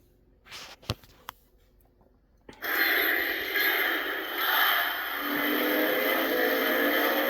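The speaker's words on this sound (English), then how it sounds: "It's the car revving up." After a few clicks, a Hess toy truck's electronic engine rev kicks in and rumbles steadily, loud and close, holding a droning tone.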